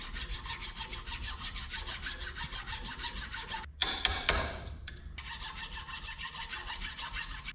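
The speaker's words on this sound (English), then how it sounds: "So we're going to see how well a file will do on them pads." A hand file rasps steadily back and forth on pads for an International Travelall, close and rhythmic, broken midway by a few sharp knocks and shuffling before the even filing strokes resume.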